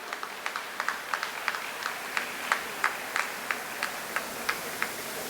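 Audience at a Fatima College silver jubilee batch celebration clapping for faculty members, a thin, scattered round of claps with distinct individual hand strikes at a steady pace, fairly faint and without talk.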